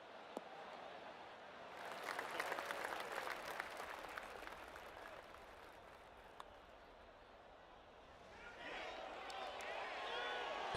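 Crowd applause from a golf video game swells softly into a faint patter of clapping, fades, then rises again near the end, with a voice talking over the top.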